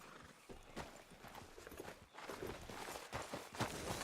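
Horse hooves clip-clop at a steady walking rhythm in Red Dead Redemption 2, the repeated hoofbeats close and clear over a faint outdoor ambience.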